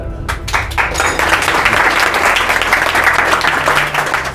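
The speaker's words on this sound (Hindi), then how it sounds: "एक ताली बांध दीजिए नंबर के लिए।" An audience at a medal ceremony for students bursts into loud, dense applause, many hands clapping close by in a sustained round that holds steady for several seconds.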